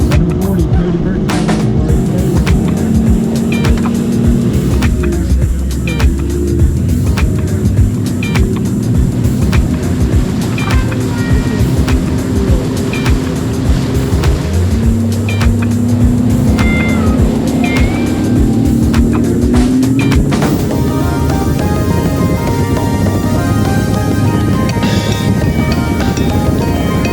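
A Nitro bass boat comes in at a bass fishing tournament on a lake, with outboard engines droning loudly and steadily, a rising whine as the boat nears, and constant water and crowd noise throughout.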